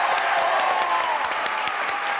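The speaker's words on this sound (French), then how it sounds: "Je pense que vous méritez, Pierre, aujourd'hui une salve d'applaudissements." Studio audience applause on a television talk show, a dense burst of clapping from many hands, close and steady throughout.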